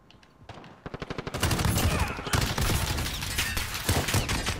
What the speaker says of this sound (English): this AUG is pretty good, but I just wish it had more ammo on it